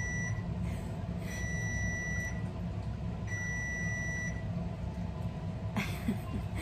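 An oven timer signalling that a pizza is done, a few sustained electronic beeps repeating at steady intervals over a quiet room hum, moderately faint and with no talking.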